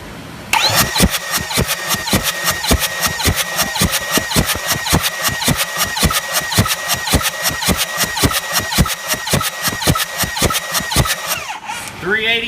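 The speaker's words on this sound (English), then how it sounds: "We're just 7 cranks and then maxed out." An engine is cranked by the starter during a cylinder compression test, a rapid, evenly spaced whirring-chugging rhythm running close and loud for about eleven seconds before stopping, followed by a brief voice.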